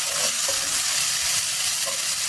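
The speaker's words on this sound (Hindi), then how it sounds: "अब हम इसमें अदरक लहसुन का पेस्ट डाल के इसको 1 मिनट तक फ्राई करेंगे।" Ginger garlic paste fries in a pan with a little oil for prawn masala, giving a steady, close, hissing sizzle throughout the short stretch without any talk.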